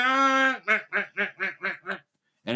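A person imitates a duck call while duck hunting from a blind, with one long nasal quack followed by six short rhythmic quacks, close and loud, with a brief silence before a final sound.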